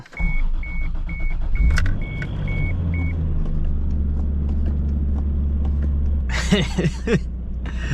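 A Toyota Supra Mk3 with a newly replaced master cylinder idles in cold weather. A series of evenly spaced warning chimes opens, then a low, steady engine rumble continues, with a brief clatter and a voice near the end.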